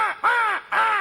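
A person imitates a crow, giving two harsh, nasal caws in quick succession, loud and close, with no other sound.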